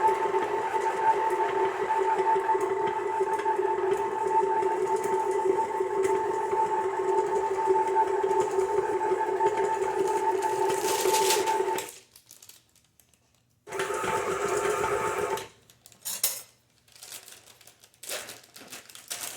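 An electric stand mixer churns a granola bar mixture at slow speed, a steady motor whine with a pronounced hum for about twelve seconds, then cuts out, followed by short bursts of scraping and clattering.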